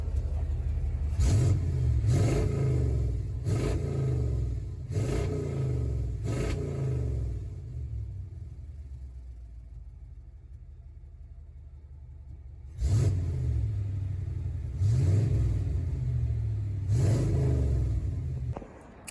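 An OBS pickup truck engine idles with a deep rumble and revs up several times in quick succession. A quieter stretch follows, then more strong revving bursts, loud and close.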